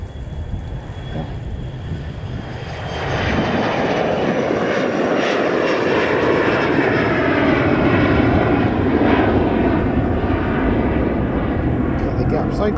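An Embraer ERJ135 regional jet's engines swell into a loud, sustained roar as it takes off from Stansted, with wind buffeting the microphone throughout.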